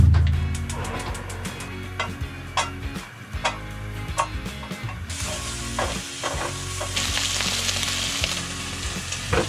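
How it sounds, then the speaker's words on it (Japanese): Fried eggs and bacon cooking in a pan, a steady close sizzle punctuated by repeated sharp taps and clicks of a utensil, the frying growing brighter and hissier midway through. "単純に目玉焼きとベーコン焼きたいなと思います"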